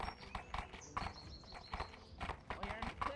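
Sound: horse hooves clip-clopping while moving

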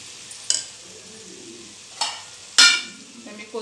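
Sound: stirring coriander into simmering pawta usal in a pan

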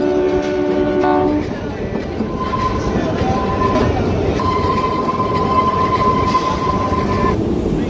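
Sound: Kalka-Shimla toy train running through hills

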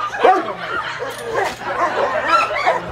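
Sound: dog barking

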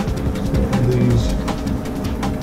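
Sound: birds cooing in video game Soul Axiom

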